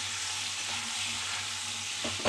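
Potato fry with turmeric and salt stirred in a pan, a steady close sizzle and frying hiss running throughout, with a couple of spatula scrapes near the end and no talking.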